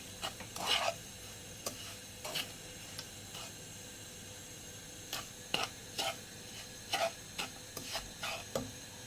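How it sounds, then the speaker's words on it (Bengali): A spoon stirs a Turkish yogurt and semolina dessert with crushed cashews and raisins, giving soft, scattered scraping strokes at close range over a low steady background hiss, with no talking. "1 মিনিটের মতো নেড়ে নিব।"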